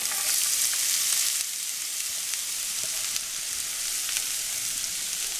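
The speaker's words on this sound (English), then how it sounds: "So we're gonna want to cook our onions first." Onions sizzle steadily in a hot pan, a close, dense hiss that runs the whole time with a few faint clicks and stirring touches and no voices.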